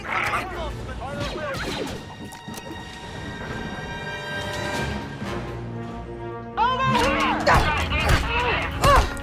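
Blaster-style gunfire in the video game Star Wars Outlaws comes in sharp bursts, with a lull in the middle and a dense, loud volley near the end, mixed with game voices talking.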